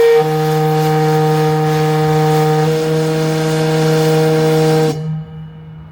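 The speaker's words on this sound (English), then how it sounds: "our whistle here at Old Mackinac Lighthouse is utilized to send a message to the sailors in the water" The steam fog whistle at Old Mackinac Point Lighthouse blows one long, loud, steady blast for about five seconds, then cuts off sharply and leaves a brief fading hiss.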